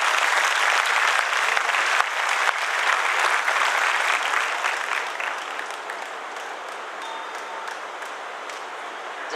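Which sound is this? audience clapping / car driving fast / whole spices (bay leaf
audience clapping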